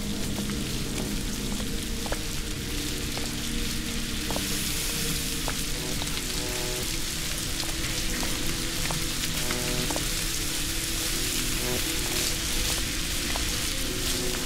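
Steady, dense video game rain from AMY pours down continuously, a loud hissing wash with occasional sharper ticks and faint clicks underneath.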